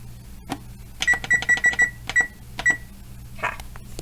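A kitchen timer gives a quick run of about eight bright, evenly spaced electronic beeps as buttons are pressed to set fifteen minutes. Soft handling clicks sound before and after, close by in a quiet kitchen.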